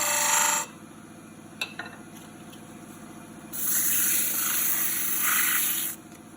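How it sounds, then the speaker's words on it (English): Sandpaper rasps against wood spinning on a lathe, a mortar and pestle being turned, in two bursts, a short one at the start and a longer one later, over a steady machine hum. "I'm sanding too rough"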